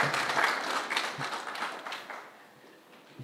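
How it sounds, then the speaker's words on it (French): Applause from the audience at a building-sector innovation and investment forum, loud at first and then thinning and fading away over about three seconds. "S'il vous plaît, tonnerre d'applaudissements pour eux"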